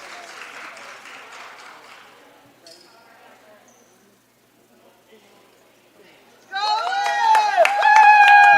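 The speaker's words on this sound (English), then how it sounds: "the Grenadier bench enthusiastically cheering on the Crimson Pride here" The volleyball bench cheers and claps in a gym, first as scattered applause and voices, then after a lull a loud burst of whooping, clapping and sneaker squeaks.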